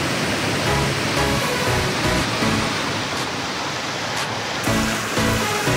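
Sakita waterfall near Morowali town, clear fresh water pouring in a steady, loud, broadband rush that stays constant throughout, with no voices.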